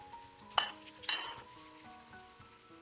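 Chives tossed in a hot wok give a soft, steady sizzle under the stir-frying, with a couple of metallic clinks and scrapes from the spatula against the pan.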